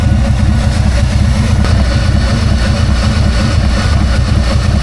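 A vehicle engine idles with its cooling fans running, giving a loud, steady low rumble and a broad whooshing hum that holds unchanged throughout, with no voices.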